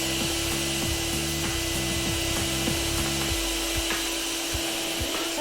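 A vacuum cleaner runs steadily and loudly, drawing air out of a vacuum storage bag in a home, with a continuous broadband roar and rhythmic low-frequency rubbing and crinkling as the bag collapses.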